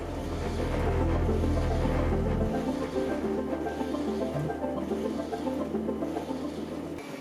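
Anycubic Kobra 4 3D printer running its resonance tuning test, a loud continuous mechanical drone with a low rumble that shifts pitch partway through and layered whirring tones, heard up close with no talk.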